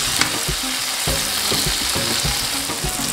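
Chopped tomatoes and onions sizzle steadily in a hot pan for a dhaba-style aloo baingan sabji, with dense frying crackle and repeated scraping stirring strokes throughout; no voices.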